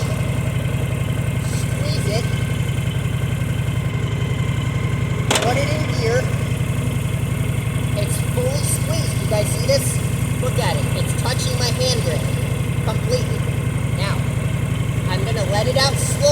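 A motorcycle engine idles steadily and close by, a constant low rumble with the rider talking over it as the clutch is squeezed and the bike is put in gear.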